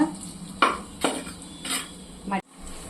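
Onions frying and being stirred in a clay pot for chicken biryani, with a soft sizzle and three or four scraping stirs against the pot, close and fairly quiet.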